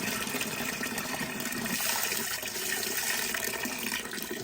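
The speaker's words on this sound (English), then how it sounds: "now that that's finished draining, we're just going to pour this straight into the fermenter" Brewing wort being poured from a pot into a fermenter during a home brew of a tropical XPA, a continuous splashing, gushing liquid stream that stays fairly even throughout, with no talking.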